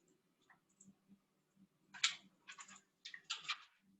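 Clicks during an online class on working with rasters, likely mouse or keyboard: faint scattered ticks, then several louder clusters of rapid clicking in the latter half, with no speech.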